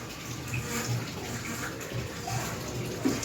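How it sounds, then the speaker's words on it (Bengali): Tap water runs steadily into a bucket after a bath, a soft, even rushing and splashing that is fairly faint and continuous throughout. "বরমশাই স্নান করে বালতি রেখে এসছে, জল ভরছে।"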